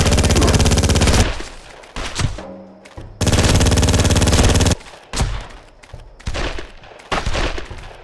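Gunfire from a shootout in the PS2 video game Made Man: loud, dense bursts of automatic fire in long volleys, broken by short gaps and a few shorter, choppier bursts.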